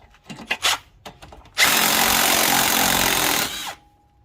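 Power tool, likely an impact wrench, running in a single sustained two-second burst while loosening a nut on a Subaru WRX STI front suspension, loud and close, after a few light clanks.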